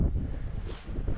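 Wind gusts buffet the microphone at night in the Scottish Northwest Highlands near Assynt, a low, rumbling roar swelling and easing over about a second, fairly loud and close.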